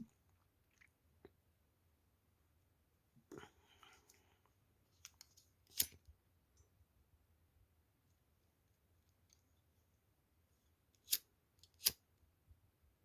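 Beading wire being cut for pearl earrings makes a few sharp, isolated snips and clicks, quiet and spaced apart by stretches of near silence, close at hand.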